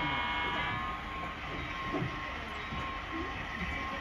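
An HO scale model train, engine 611, runs in reverse on a club layout, giving a steady low rumble and faint rail clatter with a few soft clicks, moderately close and continuous.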